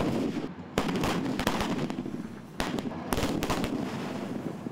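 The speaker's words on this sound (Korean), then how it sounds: "육군 17사단 비룡포병대대가 포탄 사격 훈련에 한창입니다" A K-55 self-propelled howitzer battery fires live 155mm rounds during a winter artillery drill, loud broadband blasts repeating at irregular intervals with echoing rumble between them.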